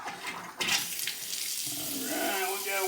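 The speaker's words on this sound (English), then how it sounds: "let's turn the faucet on and see if it works." A Delta faucet being tested after a leak repair is turned on, and water gushes steadily into the sink with a continuous close splashing rush that keeps going to the end.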